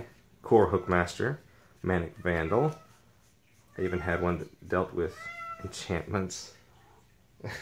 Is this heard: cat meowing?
yes